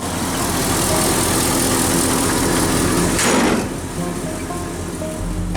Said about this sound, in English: looks like the engine's warmed up